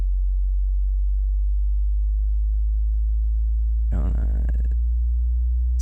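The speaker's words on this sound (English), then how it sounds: "See how the sine wave slows down and goes back?" A steady low sine wave tone sweeps slowly through the low frequencies, loud and constant, with a short burst of other sound briefly breaking in near the end.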